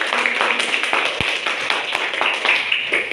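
A classroom audience claps steadily for about three seconds, a dense, even patter of many hands at moderate loudness with no voices over it.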